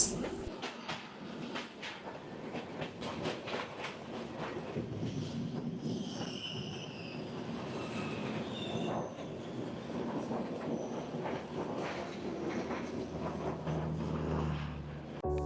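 The Amrit Bharat Express from Malda to Bangalore rolls along the rails with a steady rumble, scattered clicks of wheels over joints and some high squealing, heard from on board at moderate volume.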